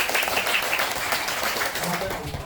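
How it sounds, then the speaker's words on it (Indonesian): Classroom applause for a student group in an elementary science lesson, brisk clapping from children blended with chatter and voices throughout the short burst. "Tepuk tangan untuk kelompok kinestetik."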